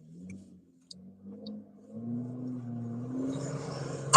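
A car with a loud, faulty exhaust revs up, its engine note rising and thickening over a few seconds, close and fairly loud with no talking.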